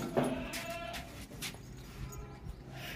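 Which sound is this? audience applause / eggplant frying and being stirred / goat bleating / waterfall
goat bleating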